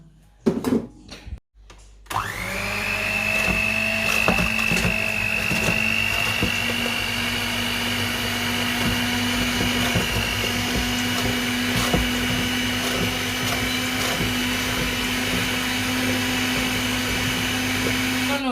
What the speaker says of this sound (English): We're going to start mixing the butter and sugar.